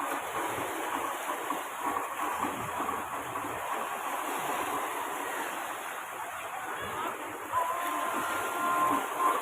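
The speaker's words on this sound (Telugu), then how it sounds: "ఎలా వేవ్స్ అయితే వస్తున్నాయో. సేమ్ సముద్రంలో ఉన్నట్టే ఉందండి." Fresh-water waves rolling through a wave pool at Panorama Water Park make a steady, full-bodied wash of surf noise that holds at an even level, swelling slightly near the end.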